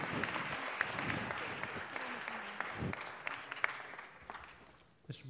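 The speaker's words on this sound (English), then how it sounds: "Our Living Legends, let's give them another big round of applause." Applause for honored Living Legends at a city council meeting, a broad, sustained wash of clapping across the room that thins out toward the end, with a voice or two breaking through the crowd noise.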